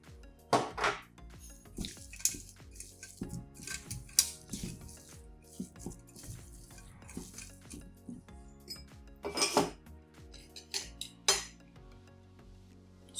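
Vada pav potato filling is mixed in a metal bowl, giving irregular close clinks, scrapes and rattling taps of a utensil against the bowl, quiet with bursts of louder activity and no speech.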